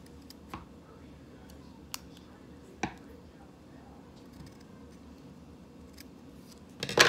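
Paper is cut with scissors to make tiny typewriter wheels for a mini journal: a few faint, isolated snips against a quiet background, ending in a louder crisp cut.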